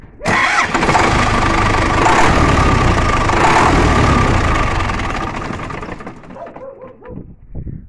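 A D245 diesel engine cranks and fires up, settling into a loud steady idle before it winds down and fades toward the end, with no talk over it.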